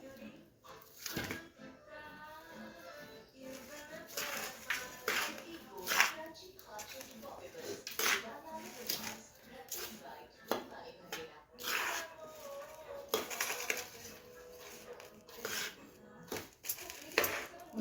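Urad dal ladoo mixture with ghee is stirred in a metal pan, with irregular scraping and clinking of a spoon against the pan alongside quieter handling noises, while someone talks over it.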